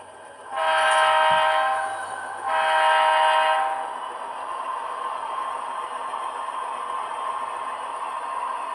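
An HO/OO model train locomotive on a small shelf layout gives two sustained horn blasts, then settles into a low, steady running hum as it pulls forward.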